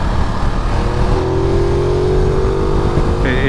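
A Ducati Multistrada V2S motorcycle riding along twisty, sweeping roads gives a steady, loud engine drone that rises slightly in pitch, heard alone without any talking.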